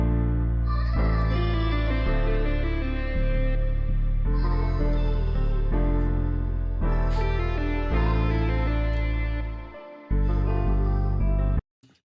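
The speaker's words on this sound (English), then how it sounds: "I went into each individual one and I pitched them down 100 cents each." A melody made in FL Studio and pitched down 100 cents plays as a rich, sustained layered synth progression for an emotional rap beat, loud and continuous with changing chords, briefly dropping out near the end.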